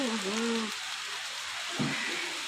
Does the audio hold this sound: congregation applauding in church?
no